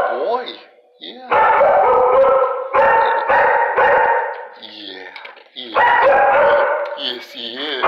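A shelter dog in a kennel howls and barks loudly in long, wavering bursts with short pauses between, close and echoing in the enclosure.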